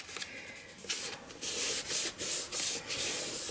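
Paper box flap folded down onto double-sided tape for a Halloween treat box, close-up papery rubbing and swishing strokes, a few short bursts then longer scraping passes as the fold is pressed flat.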